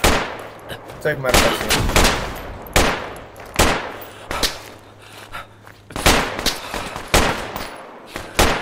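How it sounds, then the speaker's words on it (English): Project Reality military shooter gunfire: sharp, loud cracks in quick single shots and short bursts, separated by brief pauses, with a few words spoken between volleys. "Guy down on the road here is shooting"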